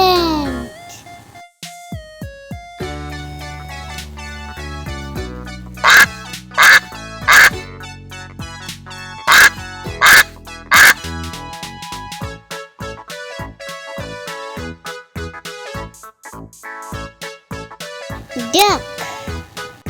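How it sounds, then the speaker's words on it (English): A duck quacks repeatedly in loud, nasal, evenly spaced bursts, preceded by a voice and other brief animal-like calls in a children's animal sound guessing game. "Duck."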